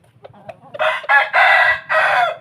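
A fighting cock raised on a Thai farm crows close by, one loud drawn-out call broken into several bursts after a few soft clucks.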